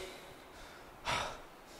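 A single deep breath taken during a lying-down shoulder exercise session, one soft airy inhale heard close against a steady background hiss.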